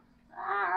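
A person's voice imitates a goat's bleat, a single short nasal call that swells and wavers as it rises, heard up close.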